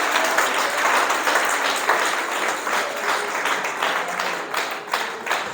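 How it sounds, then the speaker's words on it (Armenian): A church audience applauds steadily, dense continuous clapping that stays loud for several seconds with small swells, close and filling the room, no voices over it. "Եկեք ծափարենք"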